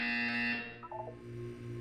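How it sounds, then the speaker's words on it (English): A test-chamber buzzer in the video game Portal 2, a loud steady electronic tone with strong harmonics that cuts off after about half a second, followed by faint lower tones. "When you hear the buzzer, look up at the ceiling."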